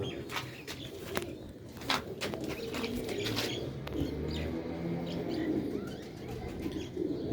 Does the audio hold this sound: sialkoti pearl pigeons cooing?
yes